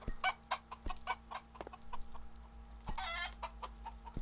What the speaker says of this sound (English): we were having chickens laying right on top of each other before